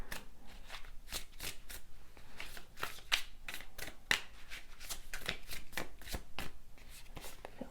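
Tarot cards being shuffled, a steady run of crisp riffling and flicking bursts close up, repeating in quick uneven rhythm with no talking.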